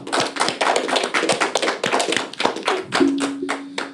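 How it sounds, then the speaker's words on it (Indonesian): A studio audience at an Indonesian talk show about Rhoma Irama claps together in a dense, steady patter of hand claps. The applause stays close and fairly loud for several seconds, with a brief sustained tone partway through. "Boleh tepuk tangan?"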